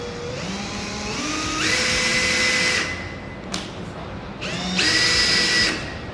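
A Makita DDF083 cordless drill driver whirs in two bursts, its pitch rising as the motor spins up, holding steady, then winding down, with a brief pause and a clicking between runs.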